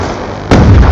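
A sticky grenade detonates in a combat video game, a sudden loud explosion that bursts in halfway through after a steady rumbling background and sustains a heavy low-end boom.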